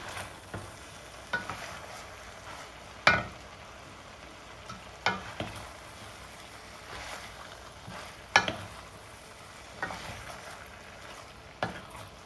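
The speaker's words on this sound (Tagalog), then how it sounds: "Hahaluin ko lamang po ang ating roast beef sa ampalaya." A utensil stirs roast beef into bitter gourd (ampalaya) in a pan, giving a faint sizzle broken by scattered sharp scrapes and clacks against the pan at irregular intervals, with no talking.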